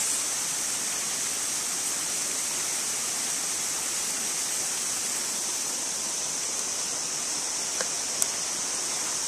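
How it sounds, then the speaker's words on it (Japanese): Water flows steadily in a natural stream, a constant broadband rush that stays even and fairly close throughout with no voices. "水の音が癒されます。"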